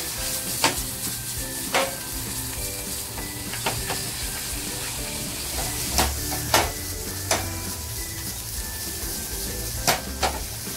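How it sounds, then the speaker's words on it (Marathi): Tomato puree with salt frying in a pan for a kofta curry, a continuous sizzle broken by repeated sharp clicks and scrapes of stirring, close and steady with no talk. "आणि टोमॅटोची प्युरी टाकली आहे तर लगेच मीठ टाकते। आता हे ना छान फ्राय करून घेते अगोदर।"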